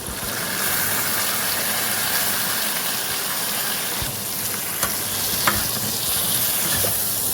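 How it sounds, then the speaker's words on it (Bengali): A spice paste of ginger, cumin and coriander fries with potatoes in a pan, a loud, steady sizzle and hiss running throughout with a few sharp scrape and knock sounds of stirring. "এবার মশলাটা ভালো করে কষে নিই"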